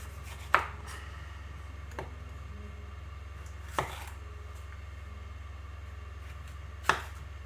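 A knife knocks against a cutting board while peppers are cut and cleaned of seeds, three sharp, close taps spaced a few seconds apart over a steady low hum.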